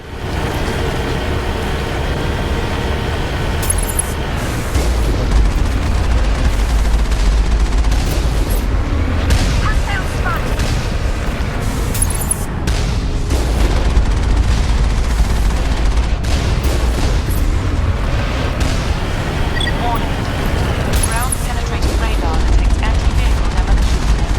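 Turret gunfire in the video game Mass Effect: Bring Down the Sky, dense repeated bursts of shots and booms layered over game sound effects and music, loud and sustained throughout.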